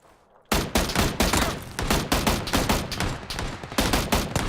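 Rapid automatic fire from a Vector gun in PUBG on the Miramar map, a loud, dense burst of shots that starts abruptly and rattles on without pause.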